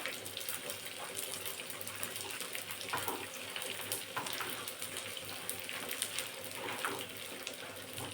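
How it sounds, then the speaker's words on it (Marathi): Edible gum (dink) fries in oil in a pan for dried-fruit and wheat-flour laddoos, a steady close hissing sizzle with a dense crackle and no break over several seconds. "आता हा आपल्याला छान असा तळून घ्यायचा आहे"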